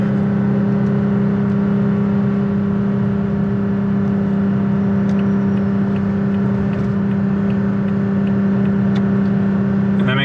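A 2023 Toyota Tacoma TRD Pro tows a load while held in second gear, its engine giving a steady, loud, sustained hum at constant high revs under road and wind noise, with no shifting.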